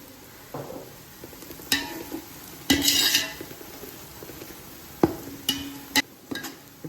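A spoon scrapes and clanks against a pan as biryani ingredients fry toward golden brown, several sharp metallic knocks at irregular intervals over a low, soft sizzle, with no talk.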